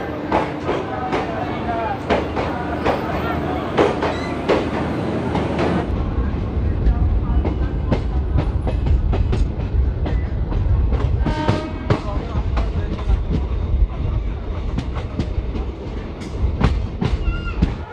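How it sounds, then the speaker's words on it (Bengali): The 03161 Kolkata to Digha special train runs after leaving Kolkata station, with steady rhythmic clickety-clack of wheels on rail joints and a loud rumbling interior that carries on throughout. "কলকাতা স্টেশনের 3 নম্বর প্ল্যাটফর্ম থেকে আমাদের ট্রেন ছেড়ে দিল দীঘার উদ্দেশ্যে"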